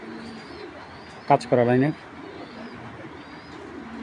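Giribaz pigeons in a loft give a short, close coo lasting about half a second, then fall quiet with only faint background noise.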